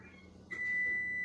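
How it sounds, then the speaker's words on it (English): A kitchen oven's preheat timer sounds one steady high electronic beep partway through, following a quiet stretch while cookies are being prepared. "that's my timer going off, telling me it's already preheated"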